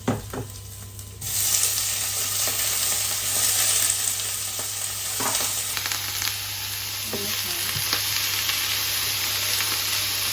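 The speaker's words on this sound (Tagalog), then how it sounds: "At ilagay na natin ang ating fresh tahong." Fresh mussels (tahong) sizzle steadily in a frying pan for adobong tahong, a loud, continuous crackling fry with a few stirring scrapes and no talk.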